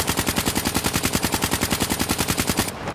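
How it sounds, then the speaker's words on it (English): A KN-44 assault rifle without attachments firing in Black Ops 3, a rapid, evenly spaced automatic burst of about thirty loud, close shots that stops abruptly near the end. "Now we're gonna shoot a KN with no attachments."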